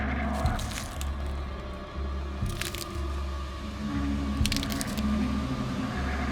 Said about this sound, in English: That familiar, awful sound. The crunch of those needles.